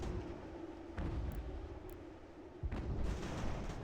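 Artillery fire in the strategy game Ultimate General: American Revolution, a low continuous rumble of distant cannon with heavier booms landing near one and two-and-a-half seconds, no voices.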